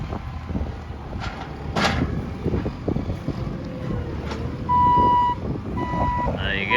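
A farm forklift fitted with a bale grab that handles four bales at a time gives off a steady electronic reversing beep. The tone pulses repeatedly over low wind and engine rumble, with faint talk behind it.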